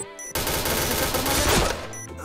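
A rapid burst of automatic gunfire from the shooter game Point Blank runs for about two seconds, loud and dense. It starts abruptly and cuts off cleanly, with menu-like tones just before and just after.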